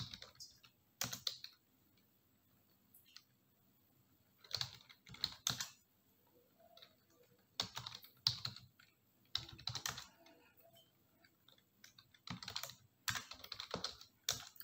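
Someone types on a computer keyboard in quick bursts of clicking keystrokes separated by silent pauses, close and fairly quiet with no talk.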